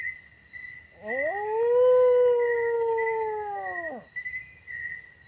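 A single long, wavering howl rises, holds for about three seconds, then drops away, with a faint high whine and quiet background behind it.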